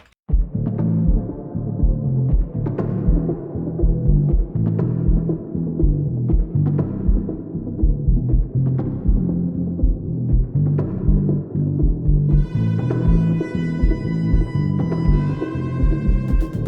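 A looping electronic track built from a short firework sample, with steady pulsing low thumps repeating in rhythm and bright ringing tones joining near the end.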